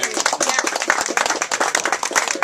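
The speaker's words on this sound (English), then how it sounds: "Let's give her a round of applause." A small group at a community camp meeting claps in a room, distinct close hand claps in a quick uneven patter rather than a dense wash.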